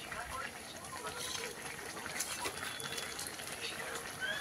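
Bottle gourd leaf curry bubbles in a pot over a wood-fired clay stove, a steady broadband simmer with soft popping throughout, heard alone without talk.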